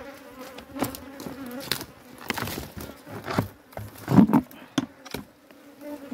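Bees buzz in a steady drone around a honey-filled wild hive on a rocky cliff face, with louder swells as insects pass close by and occasional faint rustling and knocks beneath.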